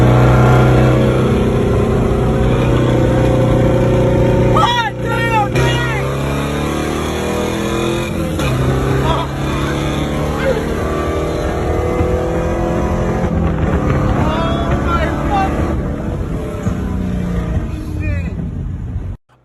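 Two race cars, a C4 Corvette and a Mark III Supra, race hard with continuous loud engine roar and rising revs through gear changes, heard from inside one car, with brief talk over the engine noise.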